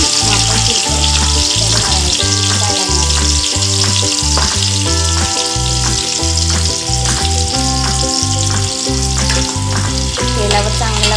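Chopped onion and tomato sizzle and fry steadily in hot oil for mutton rassa, close and loud, with stirring noises on top and no talking.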